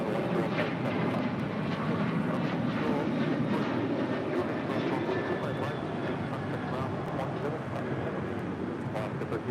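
Alaska Boeing 737-900 jet departing at LAX, a broad continuous engine roar that holds steady for nearly ten seconds with wind buffeting, heard from a distance on the airfield.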